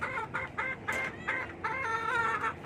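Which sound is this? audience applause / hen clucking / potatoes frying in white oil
hen clucking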